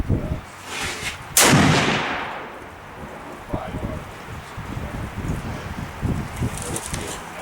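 A single loud 7mm PRC rifle shot through an Outlier barrel cracks at an outdoor range, its boom rolling away into a long echo. Afterwards only wind and faint rustling remain.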